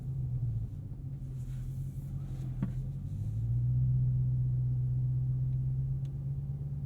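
A Dodge Challenger Hellcat Black Ghost, riding on 305-section tires, rolls through a turning radius test, its engine giving a low, steady rumble that swells slightly midway, heard from inside the car.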